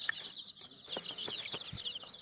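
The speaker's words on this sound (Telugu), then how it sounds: "కోళ్ళు మంచిగా ఉన్నాయి" Chickens cluck in a poultry yard, a steady stream of short, fairly close calls with no talk over them.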